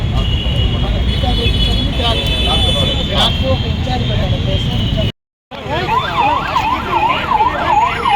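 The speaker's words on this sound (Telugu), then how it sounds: "వెనక ఉన్న వెహికల్స్ కూడా సైరన్ వేసుకుంటారు." Police vehicle sirens wail, rising and falling over a dense roar of street traffic during a police flag march in Abids, Hyderabad; the sound cuts out briefly, then returns with a fast, regular up-and-down siren pattern.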